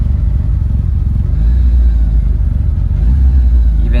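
A 1997 Suzuki GSX motorcycle engine runs steadily close by, a loud continuous low rumble with slight swells in revving and no talk over it.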